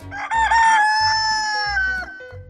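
A cartoon rooster crows loudly and close by, a long drawn-out call rising and falling, with low clucking pulses underneath.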